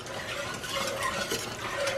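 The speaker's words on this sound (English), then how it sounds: "we're gonna whisk it till it's smooth, real smooth" A whisk scraping and churning cranberry sauce in a big pot, a steady continuous swishing stir with faint metallic clinks and no talk.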